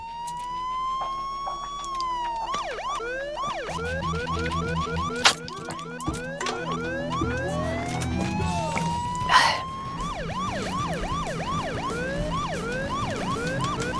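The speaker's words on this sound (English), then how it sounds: "I cannot turn off the siren during this. All I can do is toggle it between the fast and slow siren." A police car siren from the Crazy Taxi video game shifts from a slow wail into a fast, repeating yelp, loud and continuous, with a couple of sharp bangs mixed in.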